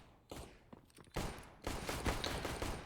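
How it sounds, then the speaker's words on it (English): Glock pistol shots in a Counter-Strike match crack out in quick spammed bursts, several sharp reports spaced irregularly, fairly faint overall and with no talking. "And I spam the Glock at the guy's head"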